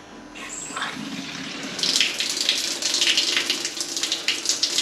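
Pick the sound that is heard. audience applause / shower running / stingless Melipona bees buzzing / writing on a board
shower running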